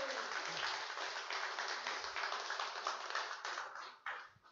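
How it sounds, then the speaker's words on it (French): An audience at a French evening event gives a warm ovation for a guest, a former OGC Nice footballer, with a continuous wash of clapping that fades near the end. "monsieur Dominique Baratelli, s'il vous plaît, une ovation"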